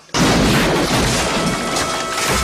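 A head bursting apart in a scene from the horror film Child's Play 2 erupts abruptly into a loud, dense roaring blast that holds for about two seconds, with no voices.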